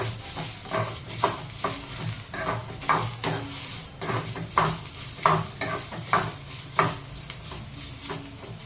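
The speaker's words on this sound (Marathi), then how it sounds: "आपण यामध्ये थोडंसं आलं आणि लसूण सुद्धा घालून घेऊ। याला पण आपल्याला छान भाजून घ्यायचे आहे।" Onion, ginger and garlic fry in a pan for a Maharashtrian masala brinjal dish, a steady sizzle broken by repeated spoon-stirring scrapes and clinks against the pan, close and even, with no talk.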